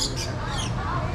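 A nectar-feeding bird perched on a hand at a zoo park gives short harsh squawks close to the microphone over a busy, noisy outdoor background.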